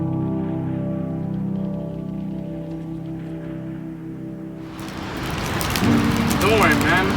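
Rain falls at Sconticut Plaza in Fairhaven on a gray day, a steady hiss of drizzle over a low engine-like hum, growing louder and splashier toward the end as a voice briefly speaks.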